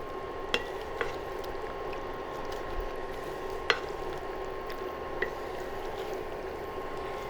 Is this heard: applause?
no